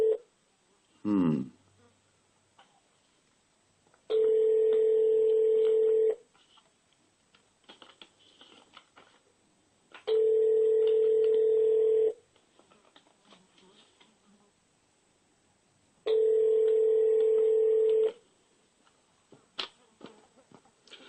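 An unanswered telephone call ringing out: three long steady ring tones, each about two seconds, separated by roughly four-second silences, with faint handling noise between.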